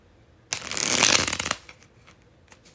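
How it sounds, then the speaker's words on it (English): A deck of playing cards gets a bridge shuffle: one loud, close riffle burst lasting about a second, followed by a few faint taps as the cards settle. "Only the best bridge shuffle for the Leos."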